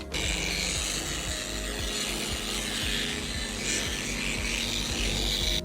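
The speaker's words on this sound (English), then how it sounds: "polish the headlights with the polishing machine's foam pad" A polishing machine with a foam pad buffs car headlights, giving a loud, continuous rough whirring rub with a rhythmic scraping pulse throughout, close up and steady, with no talking.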